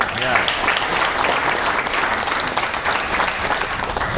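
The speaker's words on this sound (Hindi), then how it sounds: "उनके लिए जोरदार ताली" A large audience claps loudly and continuously for a guest at a business seminar event, dense sustained applause with no speech over it.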